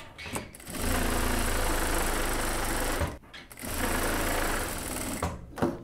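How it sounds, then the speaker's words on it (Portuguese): A sewing machine stitches along the edge of a boiled wool coat in two long, loud, close runs separated by a brief stop. "E aí eu continuo a minha costura em toda a margem da minha borda."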